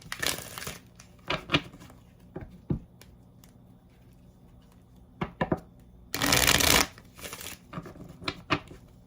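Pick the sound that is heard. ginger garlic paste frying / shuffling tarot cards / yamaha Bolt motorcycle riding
shuffling tarot cards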